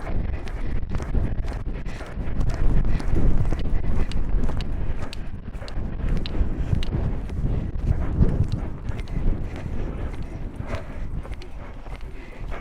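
Horse loping in an arena, a steady rhythmic drum of hoofbeats close by, continuous throughout with wind buffeting the microphone and occasional faint talk.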